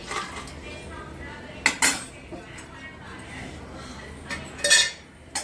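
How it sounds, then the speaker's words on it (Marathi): Sliced almonds being stirred and lightly fried in a pan for traditional jaggery porridge, with a few sharp spoon clinks against the metal over a faint steady background. "आता आपण त्याच्यात थोडंसं काप केलेले बदाम आहेत ना ते थोडे टाकू त्याच्यात."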